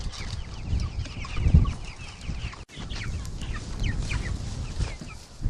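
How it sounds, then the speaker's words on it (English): Chickens in a grassy field by a movable chicken tractor cluck and squabble in bursts over a grasshopper, close and fairly loud, with other birds chirping faintly in the background. "Look at those birds fight for that grasshopper."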